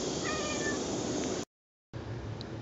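A cat meows repeatedly while being groomed with a JW Pet Gripsoft rotating comb, clear tonal cries close by over steady background noise, followed by a brief silence and a quieter stretch.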